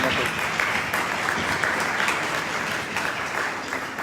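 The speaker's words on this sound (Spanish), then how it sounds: "Un fuerte aplauso, por favor." Steady, dense audience applause fills a conference hall at a public talk, loud and continuous with a few voices mixed in.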